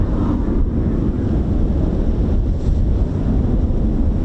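Steady, heavy wind buffets the microphone on a sunny day at RAF Marham airbase, a continuous low rumbling roar with no talking.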